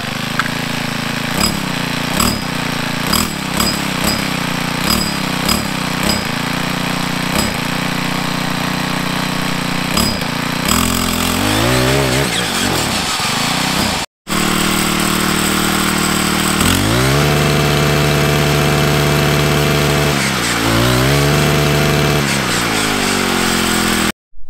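The small two-stroke engine of a cheap string trimmer sputters in uneven bursts, then revs up into a high, buzzing whine, cuts out briefly, and returns to a loud, sustained run with rising and falling throttle.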